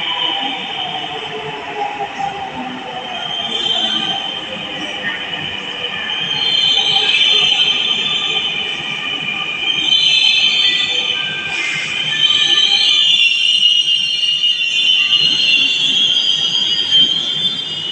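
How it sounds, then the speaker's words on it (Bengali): A metro train pulls into a station platform, a steady loud rumble of wheels and motor swelling and easing as it slows, with high squealing tones over the rolling noise and no voices. "আমরা দেখতে পাচ্ছি আমাদের প্ল্যাটফর্মে ট্রেনটি চলে আসছে।"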